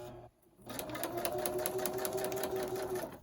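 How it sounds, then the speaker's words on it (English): Sewing machine stitching through toilet paper packaging for an altered envelope, a steady close mechanical whir with a rapid needle rhythm that starts after a short pause and runs evenly to the end. "it's sewing through really good"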